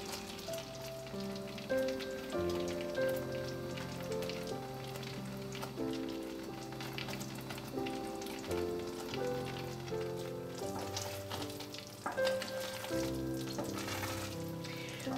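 Nut rocha candy mixture bubbles and hisses in a pot as it slowly cooks toward hard-crack, a soft continuous simmer with occasional stirring, heard faintly beneath steady background music.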